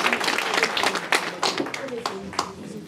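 An audience at a political party investiture in Nanterre breaks into scattered applause, clapping irregularly beneath a crowd murmur, fairly faint and brief.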